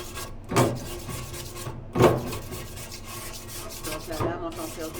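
A blade scrapes the inside of a Tazza Caffe oven, giving rough rasping strokes, with two strong scrapes and a softer third separated by quieter pauses, close and alone.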